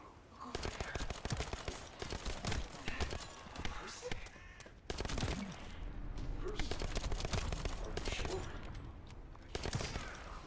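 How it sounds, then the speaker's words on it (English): Full-auto pistol fire from the shooter game The First Descendant: rapid, loud bursts of shots rattling through the whole stretch, briefly breaking off near the middle, with voices heard at times over the shooting. "Why is the pistol full auto?"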